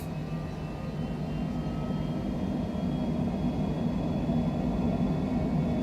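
Twin jet engines of a Cessna Citation Longitude business jet in a flight simulator, spooled up to full takeoff thrust, a steady, loud roar with a faint high whine that swells slightly over several seconds.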